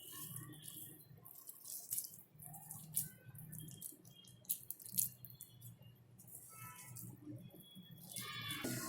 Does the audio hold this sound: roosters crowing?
no